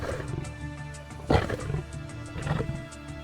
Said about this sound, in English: Super prides resonate across the earth, their collective roars traveling for miles across the open plains